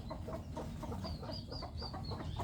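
Chickens cluck in a quick, irregular series of short calls close by, with a few higher chirping notes mixed in over a constant low background hum.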